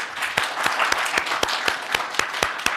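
Applause from a church congregation during Sunday service, steady dense clapping with sharp individual claps standing out, fairly close and continuous throughout.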